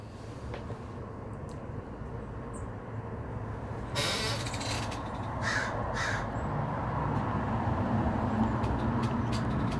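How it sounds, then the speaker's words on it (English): Several crows cawing in the distance outdoors, a few scattered harsh calls standing out over a steady low rumble of background noise. "The crow, there he is."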